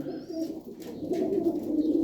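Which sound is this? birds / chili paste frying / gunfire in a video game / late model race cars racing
birds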